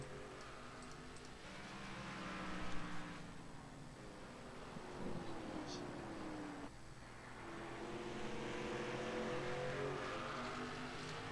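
K&N series stock car engines in iRacing's Martinsville short-track simulation give a loud, continuous multi-car drone, with pitch rising and falling as engines rev through the laps.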